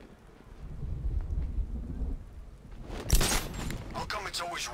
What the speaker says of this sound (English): How come it's always raining these days?